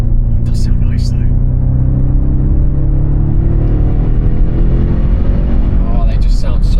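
A stock Audi RS6 with a 4-litre twin-turbo V8 and stock downpipe runs with a steady, deep rumble close by, its level rising slightly partway through, while people talk over it.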